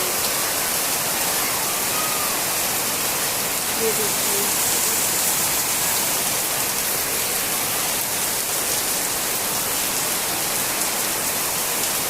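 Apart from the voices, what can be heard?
heavy rain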